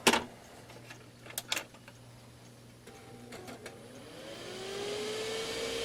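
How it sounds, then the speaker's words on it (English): An old office computer, about fifteen years old and faulty, powers on with a few clicks, then its fan spins up with a steadily rising whir that grows louder toward the end. "Fan revs right up, and that's not correct."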